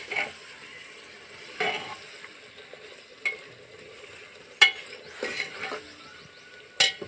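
Gavar (cluster beans) with tomato tempered in hot oil in a village-style home kitchen: a steady close sizzle broken by periodic scraping stirs and a few sharp metal clinks of the spoon against the pot.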